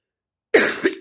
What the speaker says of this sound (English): Of course, the Rona cough, still terrible.